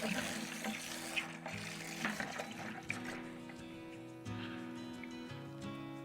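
A garden hose runs steadily during a flow rate test, its water rushing and splashing in an even, moderately quiet stream for several seconds.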